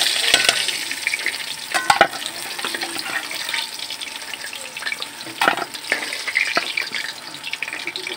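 Magur catfish pieces frying in a pan give a steady soft sizzle and crackle, with occasional sharp clicks and scrapes of a utensil against the pan, close by and without talk.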